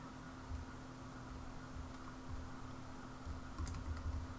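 Someone types on a Mac computer keyboard with quiet, close clicks at an uneven rhythm over a low steady hum.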